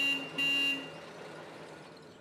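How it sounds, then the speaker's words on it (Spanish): A car horn honks on a city street in Buenos Aires, two short loud blasts in quick succession, then a fading tail under steady traffic noise. "Toque bocina."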